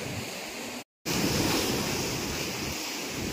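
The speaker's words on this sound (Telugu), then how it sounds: "ఏం అలలు కొడుతున్నాయి." Sea waves crash and roar at the shore in Goa, a loud, steady wash of surf mixed with wind noise on the microphone, broken by one brief dropout.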